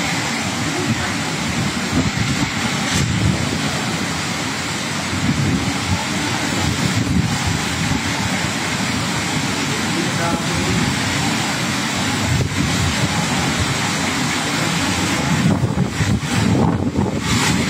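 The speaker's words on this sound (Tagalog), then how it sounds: "Naghalo po, malakas na hangin, malakas na ulan" Strong storm wind buffets the microphone with heavy rain during a typhoon evacuation near a church, a loud, continuous roaring rush with gusting surges that holds steady throughout.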